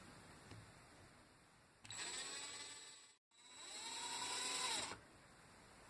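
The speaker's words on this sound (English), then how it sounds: "you're going to get your drill, and with the spade drill bit, you're going to make your pilot hole" A power drill fitted with a spade bit bores a pilot hole through drywall for a wall-mounted mirror. Two loud whining bursts of roughly three seconds each are split by a short silent pause, and there is no talking.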